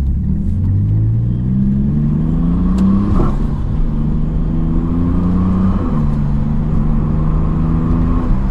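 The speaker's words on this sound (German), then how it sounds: "So, und jetzt gebe ich nochmal Gas." A VW Corrado R32 Bi-Turbo with a DSG gearbox accelerates hard on a test drive, its engine rising in pitch through two abrupt, forceful gear shifts under a loud, steady road rumble.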